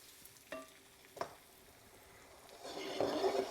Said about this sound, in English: just put a little bit of oil in our pan here, my onions